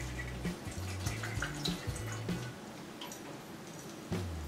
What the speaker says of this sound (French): Ensuite vous allez venir ajouter 200 ml de lait d'amande ou de lait de votre choix